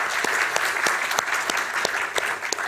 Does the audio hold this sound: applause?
yes